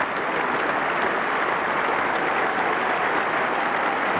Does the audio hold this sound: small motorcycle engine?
no